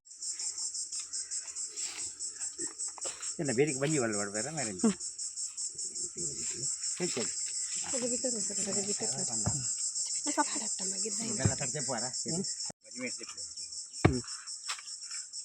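Honeybees at a hive kept at home, a steady high insect drone running the whole time, with short bursts of nearby talk layered over it.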